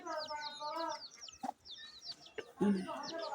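A hen clucks close by in short, soft bursts, with her chirping chicks and other bird calls mixed in.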